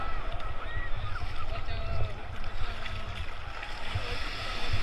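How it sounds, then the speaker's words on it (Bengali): A big sea wave breaking over a bather at Puri beach, a continuous close rush of churning water and spray, moderately loud, with voices faintly audible underneath. "ও বিশাল ঢেউ একটা।"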